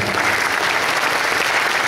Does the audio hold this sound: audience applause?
yes